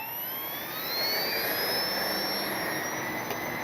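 An Arrows P-51D 850 mm RC model airplane flies with a steady, fairly loud electric whine. Faint tones rise and fall as it passes, and no one speaks.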